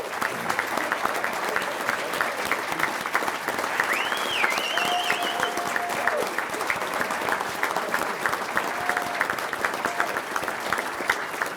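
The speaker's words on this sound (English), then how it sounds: "we give them a round of applause" Sustained applause from a Hall of Fame induction audience as football inductees stand, dense steady clapping filling the room for the full stretch with no pause, loud and continuous.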